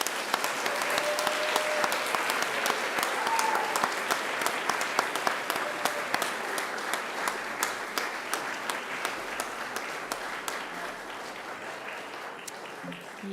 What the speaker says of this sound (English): And please give them a big round of applause.